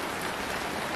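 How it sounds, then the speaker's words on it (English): Heavy rain pours down steadily during a garden craft session after potting plants, a dense, even hiss of drops on surfaces filling the short stretch with no voices. "it started pouring down with rain"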